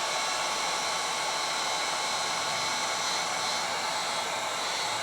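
A heat gun blows hot air onto old plastic ribbon cable remnants during repair of a Kenwood KDC-X715 car stereo, a loud, steady, close rushing roar that holds unbroken from start to finish with no voices.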